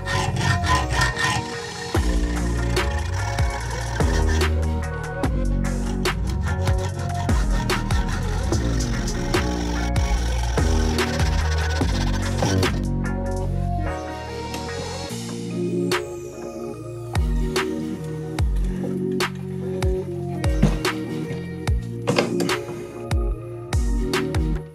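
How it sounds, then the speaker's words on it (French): A hacksaw slowly cuts through the weld on a metal exhaust pipe clamp. The blade makes a long run of rhythmic, rasping back-and-forth strokes, close and steady, with occasional pauses and scrapes. "On va prendre une scie à métaux et on y va doucement, on va couper la soudure."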